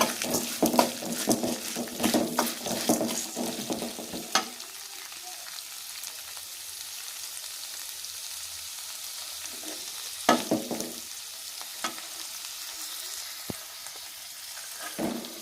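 Onions sauté in a pan with salt for bottle gourd chutney, giving a dense, loud sizzle and stirring scrapes for the first few seconds, then settling into a steady, quieter frying hiss with occasional clinks and spatula taps.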